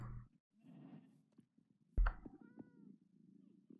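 A Minecraft cat from the 1.14 update meows once, fairly close and clear, with softer game noises and a short bump around it.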